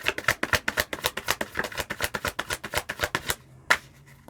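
Tarot cards being shuffled and drawn for a reading, a quick run of crisp, evenly spaced riffling flicks up close, ending in a pause and one last snap of a card.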